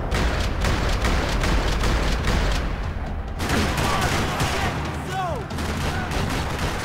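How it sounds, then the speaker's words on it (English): Gunfire rattles across a parking lot in the video game Max Payne 3, sustained rapid bursts of automatic fire and shots, dense and loud, with faint overlapping sounds near the end. "Another parking lot rattling with gunfire."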